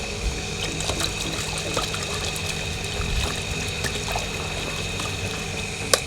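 Water runs into a bucket and is mixed for pool cleaning, a continuous even trickle and pour that holds steady for several seconds with one small knock near the end.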